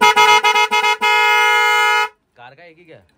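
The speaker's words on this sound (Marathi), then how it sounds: "आणि नवीन हॉर्न पण लावून बघतोय कारण खूपच कमी आवाज येतो." A newly fitted car horn being tried out at the Kurla car and bike spare parts market blares close by, first in five short toots and then in one long sustained blast, followed by brief talk.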